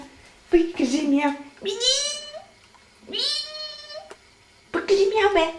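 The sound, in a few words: cat meowing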